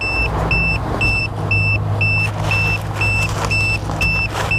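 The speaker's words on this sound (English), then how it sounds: "That beeping you hear is because I have not set the alarm" A steady series of short electronic beeps from an RV tire pressure monitoring system alarm repeats at an even pace over a constant vehicle engine hum.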